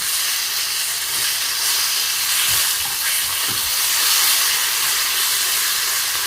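Garlic and liver frying in hot oil, a loud continuous bright sizzle and hiss close by, with a few soft clinks of a utensil against the pan.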